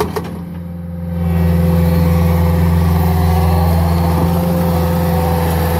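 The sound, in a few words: Caterpillar track skid steer engine running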